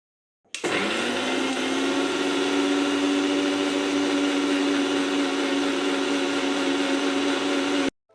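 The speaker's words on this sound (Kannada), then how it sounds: "ಈಗ ಇದನ್ನು ಮಿಕ್ಸಿಲಿ ಪುಡಿ ಮಾಡ್ಕೊಂಡು ಬರ್ತೇನೆ." A mixer grinder powders sugar with cardamom, starting abruptly into a loud, steady high-pitched whir that holds evenly for about seven seconds before cutting off, with no voices.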